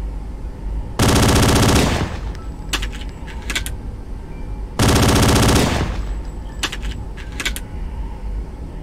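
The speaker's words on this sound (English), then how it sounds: "fire the pistol" Two loud bursts of rapid pistol fire from the Halo: Combat Evolved Tag Test build on the Chiron TL-34 map, each volley about a second long, followed by sharp metallic clicks and clatter, with quieter game ambience between them.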